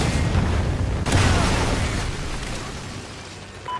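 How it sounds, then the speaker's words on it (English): A Trinity rocket strike in Call of Duty Ghosts lands as a heavy booming blast, a deep rumbling explosion with a second sharp impact about a second in, then a long decaying roar. "Friendly Trinity rocket inbound."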